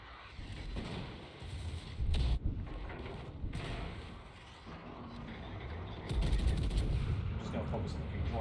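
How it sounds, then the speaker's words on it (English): Naval gunfire from warships in a naval warfare video game, heard as repeated booming salvos and rumbling blasts over a constant background roar, with louder bursts near the start and end and a voice talking in places. "King George is still shooting a ship."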